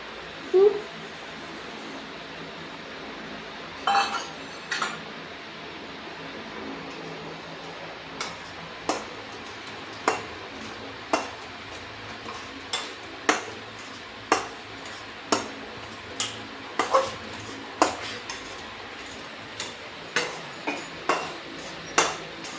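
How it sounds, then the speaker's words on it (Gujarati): Flour roasting in boiling ghee in a pan for gulab jamun, heard as steady soft sizzling with a run of sharp spoon scrapes and taps against the pan, repeating fairly regularly and close by. "ઘી ઉકળી ગયા બાદ હવે આપણે લોટ શેકી લઈશું."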